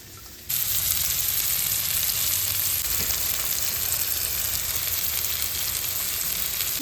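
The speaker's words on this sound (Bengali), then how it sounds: "শুকনো লঙ্কাটা ভাজা হয়ে গেলে এরপর আমি কুচনো পেঁয়াজ দেবো" Chopped onion hits hot oil in a wok and erupts into a loud, continuous hissing sizzle that holds steady for several seconds, close up and with no voices.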